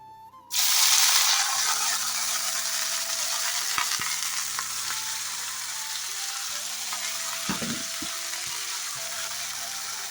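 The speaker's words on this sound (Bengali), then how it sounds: "তিতকারলা ভাজাতে আমি হলুদ নুন দিয়ে এখন ভালোভাবে নাড়াচাড়া করে" Bitter gourd with turmeric and salt hits hot oil in a pan and bursts into a loud, steady sizzle. The sizzle carries on close up, with spatula scrapes and clinks from stirring.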